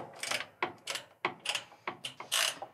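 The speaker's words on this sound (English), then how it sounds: "we're gonna go ahead and put our screws in on the back panel here" Screws being driven into the plastic back panel of a Maytag washer, a series of short ratcheting clicks in quick bursts, close and fairly quiet, with no talk.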